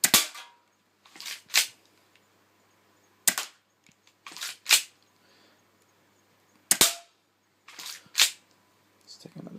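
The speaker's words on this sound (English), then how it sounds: "Let's take a shot at the Pepsi can there." An airsoft gas blowback pistol fitted with a silencing modification fires BBs at a Pepsi can, giving sharp, close snapping shots in pairs and singles, each followed by a short hiss, with near-silence between them.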